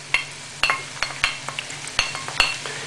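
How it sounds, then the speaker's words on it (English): Onion sizzling in hot oil in a pan for a Spanish potato omelette, a steady frying hiss broken by a run of sharp clinks and scrapes from a utensil stirring against the pan. "just pop the onion in the oil"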